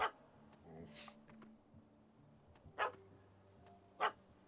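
A dog in The Witcher 3: Hearts of Stone barks in three separate short bursts spaced a second or more apart, fairly faint against a low, quiet ambient game backdrop.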